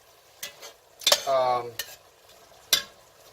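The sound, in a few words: onions cooking and being stirred in a soup pot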